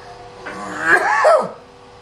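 A person gives one loud, close, rasping cough that rises and falls over about a second, heard alone without speech.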